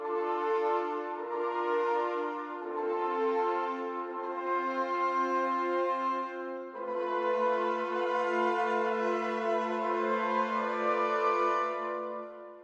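A sampled 'hollow' instrument patch from the Spitfire Audio Albion V library plays sustained, harmonically rich tones that shift pitch in steps, smooth and continuous with no talking.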